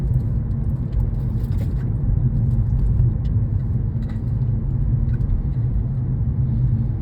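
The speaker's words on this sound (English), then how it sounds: "you can see the traffic's now starting to build up a little now" Morning road traffic heard from inside a moving car, a steady low rumble and whir of tyres and engines, continuous and unbroken, with no talk.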